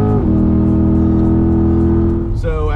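A C8 Corvette pulls away and accelerates on a Florida coastal drive, its engine a loud, steady mid-range drone close by, with a brief gear change near the end.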